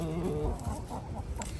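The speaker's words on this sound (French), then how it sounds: "qui est constitué, je le répète, d'un coq et de 4 poules" Brahma chickens cluck softly and continuously in a coop, a low murmuring chorus of four hens with a rooster among them, fairly quiet.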